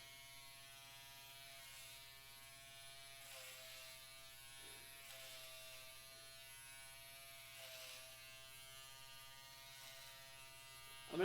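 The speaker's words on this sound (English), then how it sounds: "I'm gonna shave off just half." An electric shaver running against a head of hair, a steady close-up mechanical buzz whose tone shifts slightly as it moves, with no talking.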